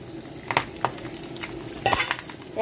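Garlic, urad dal, chana dal, mustard seeds, cumin and curry leaves tempering in hot oil for a Telugu curry, with a soft steady sizzle, light spoon scraping and a few clinks of utensils against the pan, no talking.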